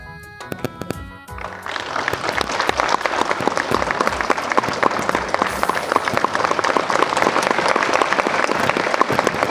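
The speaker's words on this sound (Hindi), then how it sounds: "जोरदार तालियां" A crowd at a national-level network marketing meeting in the DK Convention Hall, Itanagar, bursts into loud, sustained applause after a brief opening, the clapping dense and steady to the end.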